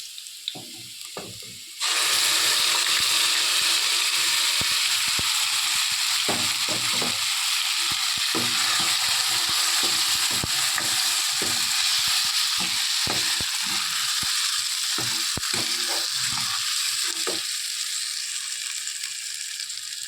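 Masala for a potato and egg curry fries loudly in hot oil in a pan, a dense steady sizzle that starts abruptly after a quiet opening, with scattered stirring clicks throughout.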